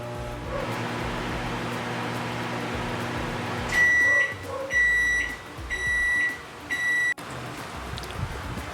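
A Dowell digital microwave oven hums steadily, then its running sound gives way to a series of four loud, high electronic beep bursts close by, followed by a click of the door.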